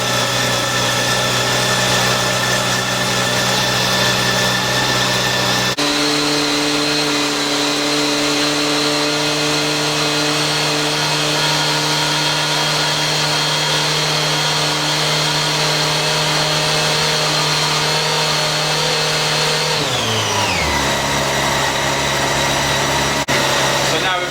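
A Yamaha FZ8 motorcycle engine with a misfire idles steadily and loudly up close while warming up, its tone shifting once early on and dropping again near the end.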